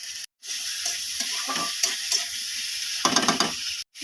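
Onions and potatoes fry in hot oil in a pan, a close sizzling hiss broken by scraping stirs, with brief pauses where the sound cuts out entirely.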